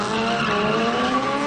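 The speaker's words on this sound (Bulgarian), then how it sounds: "Най-добрите дрифтери на България правят зрелищно шоу с 8 свръхмощни автомобили на специално обезопасен паркинг в града" High-powered drift cars at a drift show on a specially secured city parking lot, tires squealing in one loud sustained screech over an engine roar, close and continuous.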